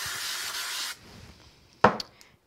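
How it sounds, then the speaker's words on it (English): Spray glue hisses from a can onto black card in one close, loud burst of about a second, followed by quiet handling noises and a sharp tap or clatter. "I'm just going to use a bit of spray glue on these."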